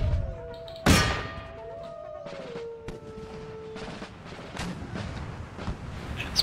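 Artillery in an Empire: Total War battle fires, one loud sharp blast near the start followed by scattered fainter booms and metallic clangs across a busy battlefield backdrop.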